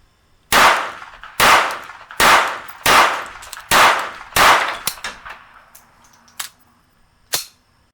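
A pistol fired rapidly, about eight sharp shots in quick succession that slow toward the end, each loud and close with a short ringing decay, and no talking.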